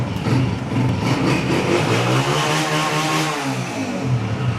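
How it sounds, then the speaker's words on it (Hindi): A Honda 125 motorcycle engine runs steadily nearby, its mid-pitched putter rising and falling slightly as it idles and revs gently. "अच्छे साउंड में बाइक बोल रही है"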